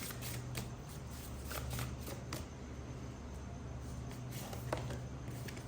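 Tarot cards are shuffled and drawn by hand, a soft, close riffling and flicking with repeated short snaps and slides of card stock, fairly quiet and steady.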